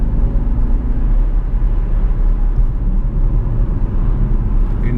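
A Jaguar XF 5.0 V8 S on the road: a loud, steady, deep engine rumble fills the cabin the whole time, with no talking over it.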